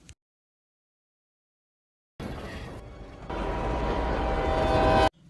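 After a quiet stretch, a loud steady train rumble starts abruptly, roaring continuously and growing louder before cutting off.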